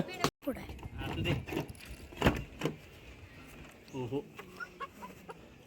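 A rooster clucks in short bursts close by, with people talking over and around the calls.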